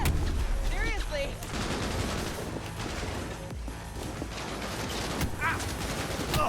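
Dense, continuous gunfire from the video game Cyberpunk 2077, rapid shots and bursts layered over a loud mix of in-game effects, with brief voice sounds mixed in.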